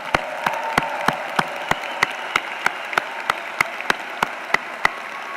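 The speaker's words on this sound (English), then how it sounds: "let's give them a big round of applause" A slow, steady clapping of about sixteen even claps over a constant hum of background noise at a university commencement ceremony, more like a single pair of hands than a crowd.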